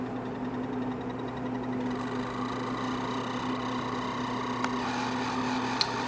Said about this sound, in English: as you see here, it is whisking away